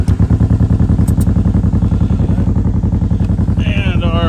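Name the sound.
1958 Berkeley SE-492 restomod car driving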